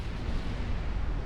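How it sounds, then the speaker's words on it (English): A deep, rumbling explosion from a torpedo hit on a warship in a naval battle video game, a continuous low roar filling the whole moment with no talking. "Kind of exploded there. I got torpedo hit."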